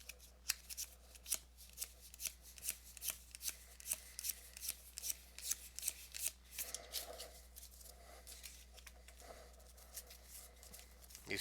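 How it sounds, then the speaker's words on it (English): Marvel Champions playing cards flipped one after another by hand, a steady run of soft, close papery snaps and slaps with a quiet hum underneath. "You just go through the cards backwards"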